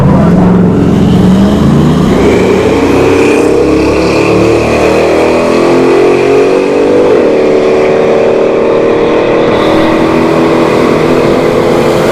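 Drag racing cars at a bracket race launching down the strip, one a third-generation Camaro, their engines roaring loud and continuous with rising revs and a shifting pitch as they accelerate away.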